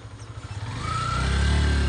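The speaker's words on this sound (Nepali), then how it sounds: "माथि बाइक जान्छ" Motorbike climbing a steep road uphill in rural hills, the engine heard close and rising steadily in pitch and loudness as it revs and pulls.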